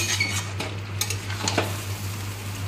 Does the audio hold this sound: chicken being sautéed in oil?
yes